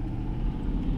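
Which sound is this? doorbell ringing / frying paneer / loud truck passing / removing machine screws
loud truck passing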